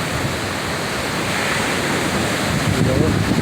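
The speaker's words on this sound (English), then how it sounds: "almost like man-made waves rolling in" Waves roll in one after another in a continuous, close and loud wash of surf, with wind buffeting the microphone and no clear talk over it.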